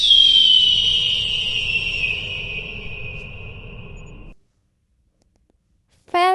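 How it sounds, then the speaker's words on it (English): A long, high, descending whistled cry rings out at close range over a low rumble, then silence, and a brief sharp call returns at the end. "eagle,"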